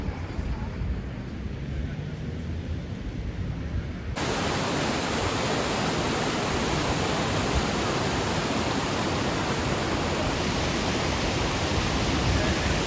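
Triberg waterfall in the Black Forest roars as a dense, steady broadband rush, quieter at first then abruptly louder and closer, continuing unbroken.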